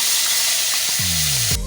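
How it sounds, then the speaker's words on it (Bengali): Food fries in a pan in a home kitchen, giving a loud, continuous close-up sizzle and hiss. A short tonal clatter sounds near the end. "এবার ভাজাটা বসাবো।"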